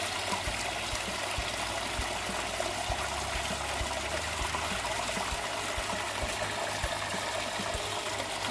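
Water overflows and drains out of a biofloc fish-farming tank, a steady close trickling and pouring flow with faint dribbling, running without a break and no talk.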